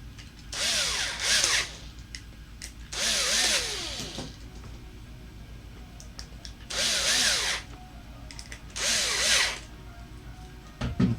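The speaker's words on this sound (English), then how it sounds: "use our drill real quick" Power drill driving screws into parts of a Tamiya TT01 model car build, four short whirring bursts separated by pauses, close and loud, with faint clicks and handling noise between.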